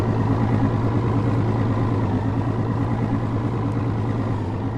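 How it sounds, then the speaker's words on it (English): Steady low engine drone of a large crab fishing boat trolling slowly on the Barents Sea, loud and close throughout with a constant rumbling hum and no voices. "I stay away from the sound of the engine a little bit."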